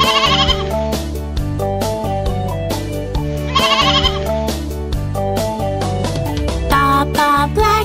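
Bleating sheep sounds ring out over a bouncy synthesized children's nursery rhyme melody for Baa Baa Black Sheep with steady chords, the bleats repeating at intervals above the music.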